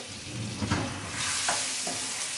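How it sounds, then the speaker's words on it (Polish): Pears cooking in caramelized sugar with melted butter for a cheesecake topping, a dense close bubbling sizzle with a few soft stirring knocks, steady and alone without speech. "Cukier już mam skarmelizowany, dodaję masło, i dodaję gruszki."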